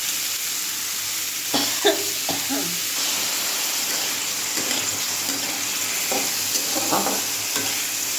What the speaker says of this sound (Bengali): এবারে একটু কষানো হোক